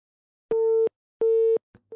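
Busy tone after a dropped phone line: two long steady beeps separated by silence, then the start of a third, loud and clean with no voices.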